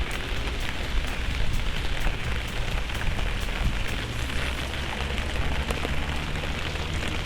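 Steady rain falls close by, a dense, constant patter with scattered sharper drops hitting a surface.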